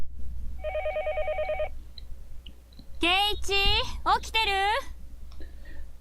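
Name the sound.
telephone ringing in Higurashi When They Cry video game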